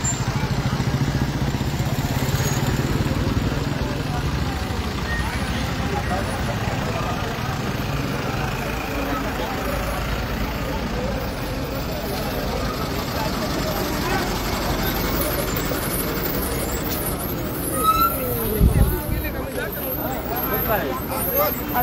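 Slow-moving road traffic creeps past a roadside accident site near Ulup in Bhoom taluka, a steady wash of engines and motorcycles with background chatter throughout and a brief louder vehicle pass near the end.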